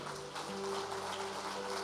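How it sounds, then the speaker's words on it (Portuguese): Congregation clapping during an evangelical sermon, a steady, dense wash of applause filling the whole stretch at moderate level, with a low sustained tone running underneath. "As palmas para Ele"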